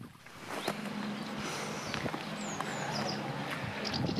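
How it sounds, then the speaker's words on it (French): A strong north wind blows across open water while fishing, a steady rushing buffet with faint scattered knocks and creaks, moderately loud and continuous throughout. "On a un méchant vent du nord là, qui souffle toute la journée."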